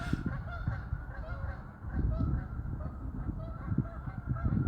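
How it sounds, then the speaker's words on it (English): Geese honk repeatedly at a moderate distance, their calls overlapping in an irregular, continuous chorus over a low rumbling background. "The geese are talking to us."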